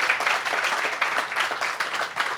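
Brief burst of audience clapping at a plinth unveiling ceremony, a quick patter of many hands at moderate level, uneven and slightly choppy, without voices.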